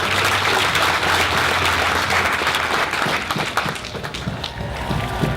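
A panel audience at Anime NYC 2017 breaks into sustained applause, a loud, dense wash of many hands clapping together that fills the room from start to finish, with a low steady hum beneath it for the first half.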